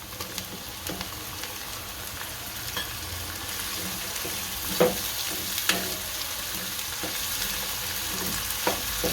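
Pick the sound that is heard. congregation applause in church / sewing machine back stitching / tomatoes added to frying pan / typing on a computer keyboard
tomatoes added to frying pan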